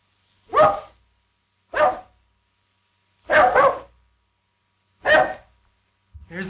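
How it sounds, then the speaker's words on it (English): A dog in a 1929 film barks about five separate times with irregular gaps of roughly a second between them, each bark sharp and fairly close against an otherwise silent background. "Here's that bark again."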